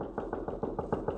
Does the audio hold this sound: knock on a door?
yes